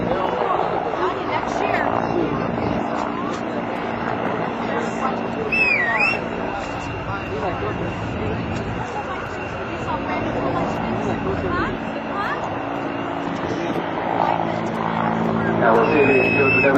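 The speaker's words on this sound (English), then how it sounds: "CH-146 Griffon, Canada's utility transport tactical helicopter." A CH-146 Griffon military utility helicopter drones steadily overhead during an air show demonstration, a broad engine and rotor roar, a voice talking over it and faint whistles cutting through.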